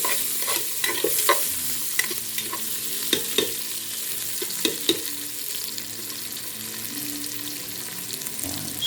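Garlic stir-fried in a pan for inasal, a steady sizzle under repeated sharp scraping and clacking of a utensil against the pan, with no voices.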